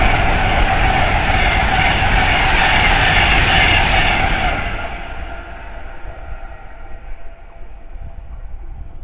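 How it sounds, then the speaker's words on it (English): A loud five-car London Overground passenger train, a Class 710, roars past close by at Northwick Park with a steady rushing rumble, then fades away over the last few seconds. "And there's an overground train"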